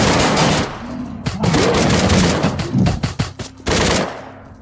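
Automatic gunfire from a zombie in Paranoia 2: Savior rattles in loud, close volleys, with brief gaps between bursts before another sustained string of shots.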